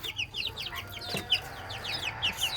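Chickens cluck and call in short, repeated bursts, with roosters among the flock in a farmyard. The sounds are fairly close and moderately loud, and no one speaks.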